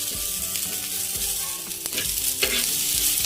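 Chichurdi fruit roasts in a pan with onion, garlic, chili and turmeric, giving a close, steady sizzle broken by a few scraping stirs and knocks of a utensil; there is no talking.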